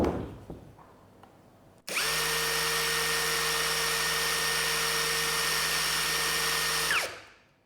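Doliz BD560 cordless brushless impact driver running at its top speed setting: a loud, steady high-pitched motor whine kicks in abruptly, holds for about five seconds, then winds down, with faint handling noise before it starts.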